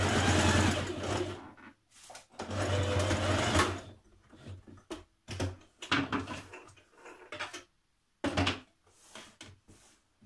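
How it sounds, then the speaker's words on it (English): A sewing machine stitches around a dress pocket edge in several bursts, a rapid mechanical whir broken by short pauses and a few clicks, close and fairly quiet, with no talking. "you can stitch around your pocket edge and then either zigzag or overlock it if you wish"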